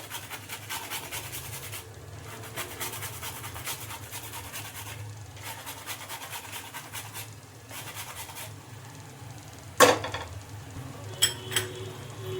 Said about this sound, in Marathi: जायफळ मी इथे किसून घेते डायरेक्टच ह्याच्यामध्ये.